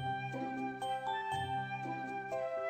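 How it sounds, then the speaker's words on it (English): A doorbell rings in a Home Alone video game as a string of bright, ringing chime tones struck in quick succession, each note sustaining and overlapping the next, with no speech. "Who keeps ringing my doorbell?"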